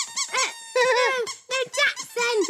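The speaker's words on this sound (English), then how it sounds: "I think I like the squeaky thing better." A squeaky toy squeaks repeatedly in quick bursts, loud and close, with a broken rhythm of short and longer squeals and no talking.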